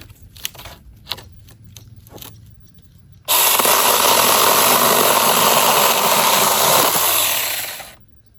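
A compact battery-operated chainsaw cuts through wood with a loud, steady high-pitched whine for about five seconds, close up and unbogged, preceded by a few clicks and light handling noises.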